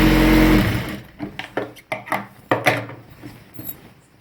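A sewing machine runs in a brief steady whir while stitching a salwar seam, then stops; clicks and handling knocks of the fabric and machine follow, close and alone.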